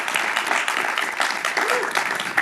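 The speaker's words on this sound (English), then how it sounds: "let's have a round of applause for Alan" A live audience applauds a podcast guest, the philosopher Alan Hajek, with brief, fairly dense clapping at moderate level and faint voices mixed in.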